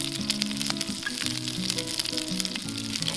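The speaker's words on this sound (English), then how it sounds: "Browning of the meat in a stew is crucial" Venison browns in a cast iron Dutch oven over an open fire during a snowstorm, a steady, close hiss and crackle of sizzling meat with soft tonal sounds underneath.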